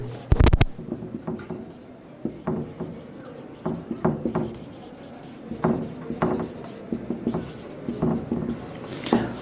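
A marker squeaks and scratches across a board in short repeated strokes, with pauses between words, close and moderately loud, with no talking.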